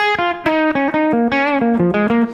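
Distorted electric guitar with overdrive gain picking a short run of single notes, loud and close, with a gritty overdriven tone.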